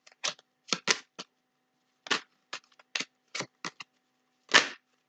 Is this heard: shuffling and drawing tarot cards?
yes